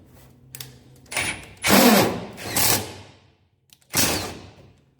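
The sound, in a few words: drill drilling a hole in a plate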